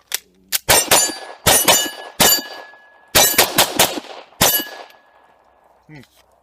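SIG P320 RX pistol fired in a series of sharp, loud shots, some single and some in quick clusters, each with a short ringing metallic tail, close by, ending with a faint voice.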